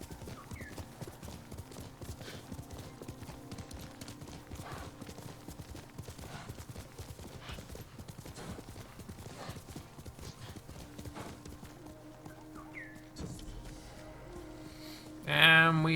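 Hoofbeats of a galloping horse in the video game Ghost of Tsushima, a steady rapid clip-clop rhythm throughout, moderately close, with a brief whinny and a louder burst at the very end.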